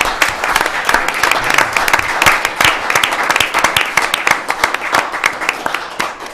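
Applause at a city commission meeting as a long-serving commissioner is bid farewell, a steady dense round of many hands clapping throughout, fairly loud and close with no speech over it.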